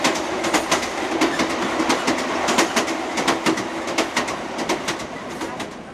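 A train rolling along rails on a long ride to the Dales, with a steady rumble and regular clickety-clack beats; a bird calls faintly in the background.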